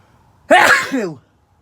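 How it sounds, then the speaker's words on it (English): A single loud, close sneeze, a sharp sudden burst lasting under a second, followed by silence. "Hold on, I'm gonna sneeze."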